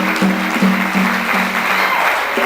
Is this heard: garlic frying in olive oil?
no